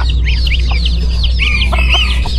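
A young rooster clucks close by in short, rising chirpy calls. Other fowl chatter faintly over a constant low background hum.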